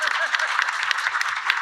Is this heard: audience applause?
yes